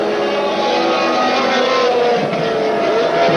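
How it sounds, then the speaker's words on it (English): A high-pitched Ferrari T4 Formula One engine screams steadily at full throttle during the 1979 race at Kyalami, loud and continuous throughout with no voices. "Villeneuve, T4 Ferrari, it's this car's first race."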